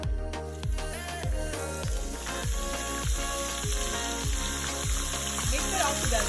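Ginger garlic paste sizzles in oil in a pan on low heat, with salt and red chili powder, for Hyderabadi haleem. A steady crackling fry runs under background music with a regular beat.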